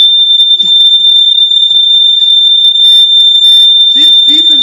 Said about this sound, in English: See, it's beeping because of the child-proof thing that's connected to it, so and it's really loud alarm.